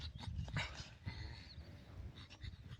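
A dog panting and giving small whimpers near an informal village cricket game, close and fairly quiet, with faint background noise and no clear speech.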